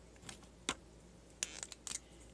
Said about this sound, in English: I'm going to cut a bunch of pieces of paper like that.